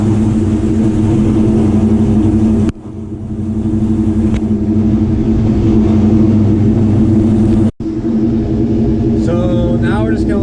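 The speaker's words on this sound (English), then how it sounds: "now we are going to go ahead and start the car" Engine of a 1999-2004 Ford Mustang running on a Megasquirt MS3 ECU, a steady loud idle rumble with strong low tones that briefly dips twice, then a voice speaks faintly near the end.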